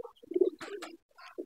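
Pigeons, including a Siraji, coo close by inside a pigeon loft, with a few short throaty coos and soft rustling in a quiet space.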